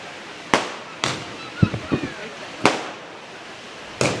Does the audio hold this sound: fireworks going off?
yes